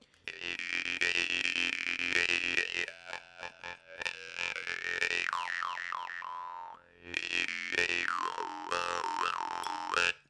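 A temir komuz jaw harp twangs continuously with loud, buzzing, resonant tones, its pitch wobbling and bending, broken by a brief pause before resuming.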